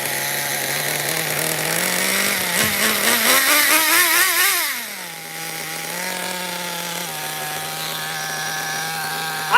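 A nitro RC car engine, Redcat or Kyosho, runs loud and close with a buzzing, chainsaw-like whine that rises in pitch mid-way, then drops back to a steady, high idle.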